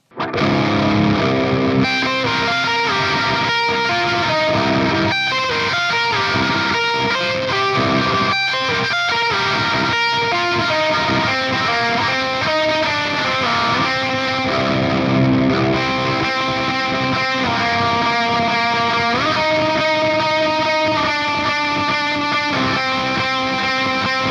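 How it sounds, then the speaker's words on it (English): Electric guitar run through a 5150 amp, boosted by Earthquaker Devices Plumes and Tides pedals, plays a loud, continuous distorted chordal riff with a shimmering chorus-like sheen, alone with no talking. "I'm going to try it boosted with the Earthquaker Devices plumes this time."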